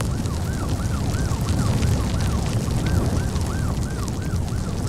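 Ambulance sirens wail in the Cities Skylines 2 city-building game, a loud rapidly rising-and-falling yelp repeating without pause over a dense rumbling background.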